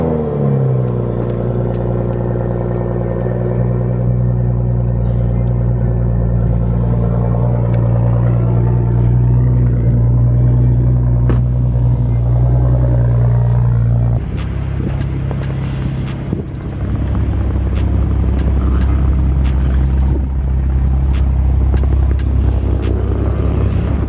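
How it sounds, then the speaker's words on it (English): A Toyota A90 Supra engine drones steadily from inside the car while driving through blizzard snow, a loud continuous low rumble that shifts pitch partway through as the car accelerates, with no talking. "I'm gonna be driving this bitch in the snow."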